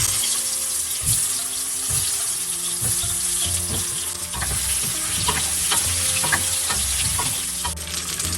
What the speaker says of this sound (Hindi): अभी हम आलू शैलो फ्राई करेंगे।